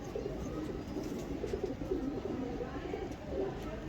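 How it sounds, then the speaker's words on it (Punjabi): Pigeons at a loft where a fancier shows off his birds, with soft low cooing repeating steadily through the clip under a constant background murmur. "ਇਹ ਕਬੂਤਰ ਉੜੇੜਾ ਕਬੂਤਰ ਆ ਸਰ ਮਾਸ਼ਾਅੱਲਾ"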